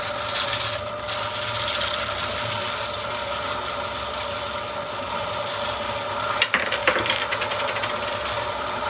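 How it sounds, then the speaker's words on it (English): A small hand sander runs against a wood carving, giving a continuous close rasping whir with a faint steady motor tone. It stays fairly even throughout, with a brief dip near the start and a sharper scrape late on. No one speaks. "this is my little sander, which quite cute, and it does the job. And you just turn it on"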